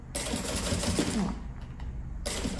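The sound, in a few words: sewing machine topstitching backpack base seam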